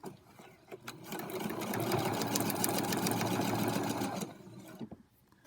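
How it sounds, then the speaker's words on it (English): A sewing machine stitches down a seam on a butterfly charm quilt block, a close, fast rhythmic whirring run of about three seconds that starts after a short pause and stops abruptly. "Now that I'm closer, I will take the pin out. Finish sewing down the line."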